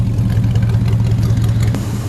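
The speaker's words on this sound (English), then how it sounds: "Well, it's sitting here idling." A homemade V8 racecar engine idles close and loud, a deep, steady, throbbing rumble with even pulses and no talking over it.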